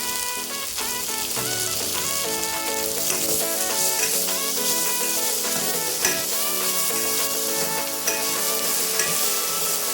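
Mint and tomato frying and being stirred in a pan for veg biryani, a continuous close sizzle with occasional stirring knocks, heard under steady background music.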